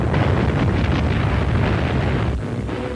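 Bombs from German bombers explode over Belgrade, a heavy continuous rumbling roar of blasts that fills the whole moment, loud and close with no separate gaps between them.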